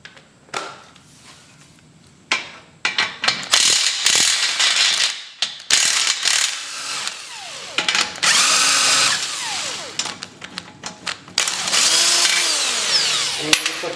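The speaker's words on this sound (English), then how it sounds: "We'll see if we can get it off with the impact without holding that other side." An impact wrench removes a nut on a cafe racer motorcycle's rear end, with loud rattling hammering bursts separated by short pauses, clicks and metallic handling noises nearby.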